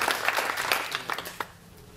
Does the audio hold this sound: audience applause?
yes